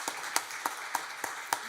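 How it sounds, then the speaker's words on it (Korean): Six slow, evenly spaced claps ring out at a church Sunday worship service, fairly faint and with no voices over them. "우리 한번 박수로 영광 돌려드리겠습니다"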